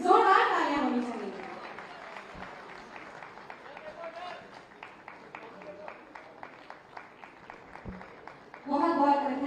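A large audience at an Uttar Pradesh Day state event claps in a steady, rhythmic beat for young child musicians from Lucknow. Announcer speech is heard briefly at the start and again at the end.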